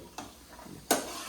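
Cashews fry and get stirred in hot oil, with a faint sizzle under two short scraping clinks of the spoon against the pan.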